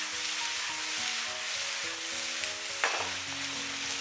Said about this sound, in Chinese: 然后给它翻炒均匀